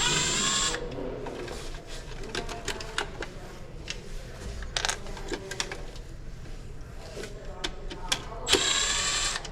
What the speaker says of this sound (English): we'll go ahead and remove the 3 screws because new cups do not come with new screws